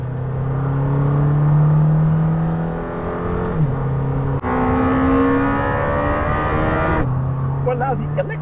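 A Lamborghini Temerario pulls away on a track on fresh tires, its engine revving loudly and climbing in pitch through several upshifts, with a driver talking over it.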